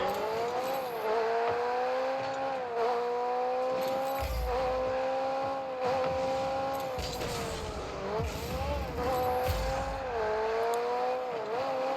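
McLaren car in Rocket League, a steady engine drone with rising and falling pitch as it accelerates and turns, loud and continuous, with occasional low thumps and scraping bursts.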